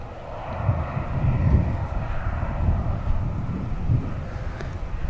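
A Boeing 737-800 at Manchester Airport, due to depart for Stockholm, makes a steady, rumbling jet engine roar with low-frequency swells and some wind buffeting, continuous and fairly loud throughout.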